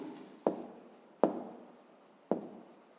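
Hand writing numbers on paper during a fifth-grade math exercise, three sharp close scratching strokes, each with a short trailing rasp, spaced about a second apart.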